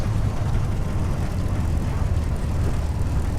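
P-51D Mustang propeller aircraft in a flight simulator rolling out after landing with full braking, a steady low engine and propeller drone with airframe rumble, moderately loud and continuous.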